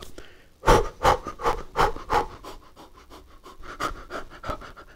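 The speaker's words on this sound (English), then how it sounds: "Whilst you go with the feeling with the breath and bastrika, the rhythmic pumping of the breath from that area." Rhythmic bastrika breath pumping during yoga practice: a series of forceful, evenly spaced nasal exhalations, close and loud at first, then softer and quicker toward the end.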